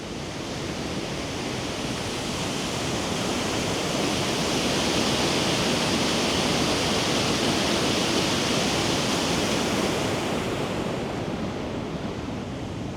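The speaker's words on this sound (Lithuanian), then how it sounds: "kad ir maža užtvanka, kad ir didelio užtvanka, jos visą laiką, kai daug vandens bėga, jaučiasi tokia" Water rushes over a small dam near Kretinga, Lithuania, producing a loud, steady, broadband roar that holds unbroken throughout with no voices, easing slightly only at the very end.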